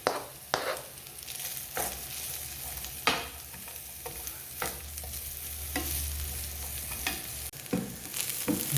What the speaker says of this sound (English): I'll just add some of this onion in, just cook alongside the bacon